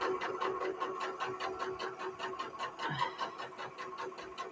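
A sewing machine runs steadily while chain piecing quilt blocks, a fast, even rhythmic needle clatter with a mechanical hum, moderately close and uninterrupted by talk.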